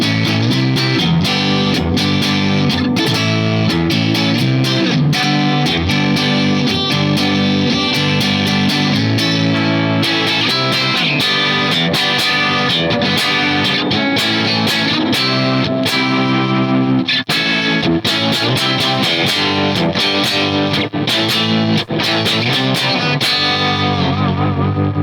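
Electric guitar played through a Lance Amplification Aerial and Bondi Effects pedals with reverb engaged, a continuous distorted, chorused wash of chords and notes that rings on without pause.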